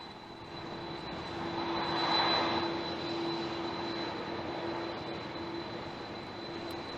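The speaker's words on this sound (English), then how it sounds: "Pope Francis touching down there at Baghdad's international airport is really quite the sight" The papal aircraft landing at Baghdad international airport, heard as a steady, broad engine roar that swells briefly early on and then holds at a constant rumble, with no talking over it.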